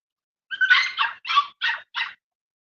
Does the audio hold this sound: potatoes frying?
no